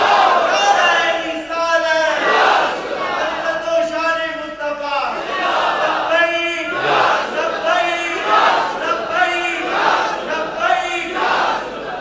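A large religious rally crowd in Gujranwala shouts slogans in repeated rhythmic waves of call and response, loud and reverberant, with a leader's amplified voice between the bursts.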